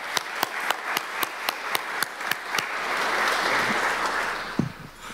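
A small seminar audience in Canberra claps after a census data session. It starts as sparse, evenly spaced individual claps, then swells into a soft, denser round of applause before tapering off, heard fairly distant and quiet.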